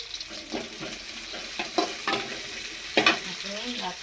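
Homemade thalippu vadagam frying in a pan for a simple karavaatu kuzhambu, a soft continuous sizzle broken by several scraping stirs, close by with no talk.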